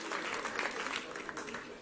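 A burst of audience applause at a political rally in Milan, dense and steady, with a voice faintly audible beneath the clapping.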